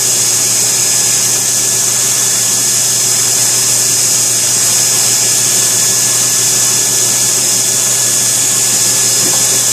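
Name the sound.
belt grinder with 120 grit ceramic belt grinding knife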